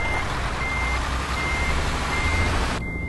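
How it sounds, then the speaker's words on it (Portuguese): Truck reversing alarm in Euro Truck Simulator 2, a steady series of evenly spaced beeps over a continuous engine rumble, loud and close throughout. "Tem que tirar o caminhão de ré."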